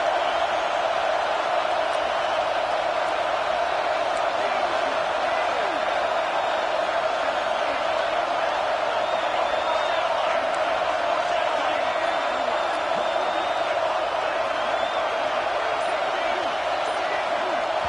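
Steady loud roar of a packed college football stadium crowd, a continuous dense wall of noise with no breaks, voices blending into one sustained drone.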